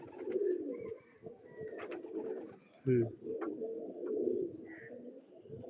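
A pair of Madrazi pigeons, a hen and a cock, coo in low, throaty rolls that rise and fall steadily at close range, with a brief louder burst near the middle and faint background sounds throughout.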